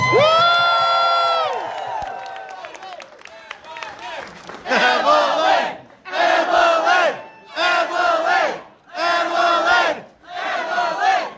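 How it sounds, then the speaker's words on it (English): At a political rally in Las Vegas, a crowd roars and cheers, first in a sustained swelling shout, then in rhythmic chanting bursts that rise and break off repeatedly, loud and close. "Let's give her a round of applause."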